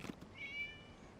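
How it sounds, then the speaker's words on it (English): A cat gives one short, faint meow in the Genshin Impact video game, a thin rising-then-falling cry set against quiet background ambience. "It was just a cat."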